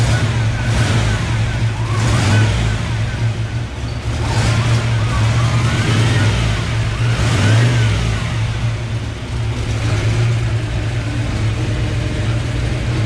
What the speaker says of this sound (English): See if we can make turbo noises